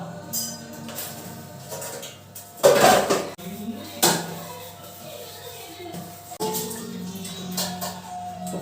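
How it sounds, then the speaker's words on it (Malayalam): Dishes and plates clatter and scrape during washing, with sharp clinks and knocks over a steady background hum. "അപ്പോൾ നമുക്ക് പ്ലേറ്റ് കഴുകുന്നതിനോട് തുടങ്ങാം"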